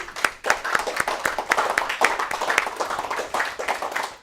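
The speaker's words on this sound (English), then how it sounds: "Say a round of applause for them." A classroom gives a round of applause for two student models during a music lesson on rhythm, tempo and meter, with many hands clapping in a dense, lively patter that carries on throughout at moderate volume.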